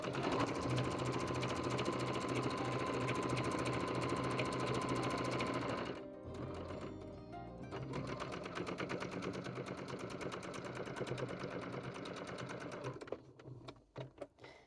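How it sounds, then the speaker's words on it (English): A sewing machine stitches a quarter-inch seam down a quilt block, running in long steady bursts of rapid mechanical whirring, pausing briefly midway, then continuing before slowing to a stop. "we sew 1/4 of an inch to this side all the way down"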